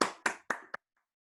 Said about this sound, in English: Give yourselves a clap, guys.